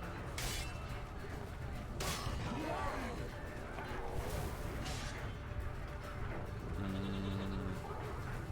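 Goat bleating in The Witcher 3 video game, a short bleat amid a busy game soundscape with a low steady drone, a few sharp bursts and a brief tonal sound near the end.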